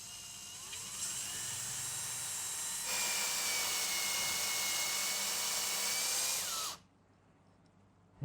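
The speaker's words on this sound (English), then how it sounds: "So we're going to drill for that right now." A power drill bores into a guitar body to make a channel for pickup wires, a steady high whine that rises in pitch partway through, runs continuously for several seconds, then cuts off abruptly, leaving quiet room tone.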